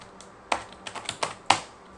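Close, crisp clicks of a computer keyboard as someone types a handful of keystrokes in an uneven rhythm over about two seconds, with no talk.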